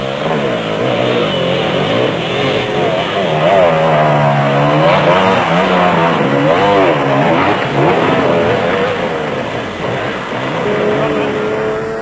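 A Land Cruiser six-cylinder engine revs loudly during an off-road race in the Maluti Mountains, its pitch climbing and falling in repeated surges over a continuous close roar.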